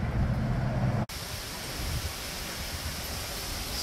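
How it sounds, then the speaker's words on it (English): Strong wind in the aftermath of Hurricane Ian, a loud, broad, steady rushing roar with a brief cut partway through, close and without talk. "Still really windy,"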